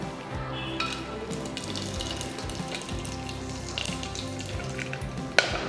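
Cinnamon, cloves and whole spices sizzle in hot ghee in a pan, a soft steady frying hiss with faint crackles and one sharp clink near the end, no talking.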